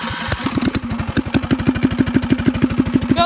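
Gasoline engine on a custom-built yard kart with electric start, running low on fuel, putters at a steady fast idle, close and loud with even pulsing firing throughout.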